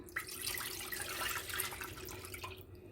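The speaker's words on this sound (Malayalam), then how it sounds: "ഈ 2 കപ്പ് തേങ്ങാപ്പാൽ ഒഴിക്കുകയാണ്" Two cups of coconut milk pour into a pan for Kerala Pesaha paal, a close, steady liquid splash and trickle lasting a few seconds, with no voices.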